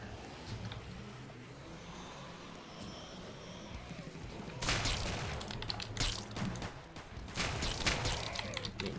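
Gunfire in the video game BLOODFEST, a flame-gun and shotgun shooter: a loud, dense burst of shots erupts midway and keeps going in ragged volleys over a quieter murmur of game ambience.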